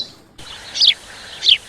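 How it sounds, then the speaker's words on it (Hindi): Birds calling on a misty morning at a resort in Wayanad: two distinct, bright chirping calls spaced apart, fairly clear over a steady soft background hiss. "दूर से आती पक्षियों की आवाज़"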